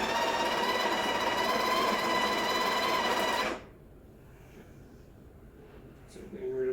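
A Breville Barista Touch BES880BST grinder grinds fresh-roasted coffee beans with a loud, steady mechanical whir for about three seconds, then stops abruptly. A quiet room and a faint clatter follow.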